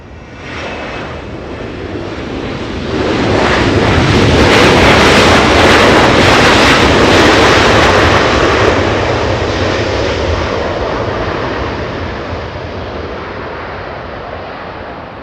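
A 22-year-old Delta Boeing 757-200 jet arrives at Los Angeles International Airport from Boston, its engine roar swelling to a loud peak and then slowly fading over several seconds.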